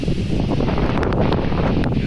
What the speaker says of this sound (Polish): Jest taki wiatr.